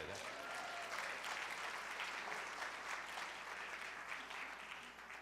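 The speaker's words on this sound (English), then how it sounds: "give him a round of applause" A church congregation applauds after a choir song, the clapping steady and fairly faint, heard from a distance throughout.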